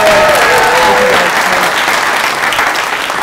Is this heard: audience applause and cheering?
yes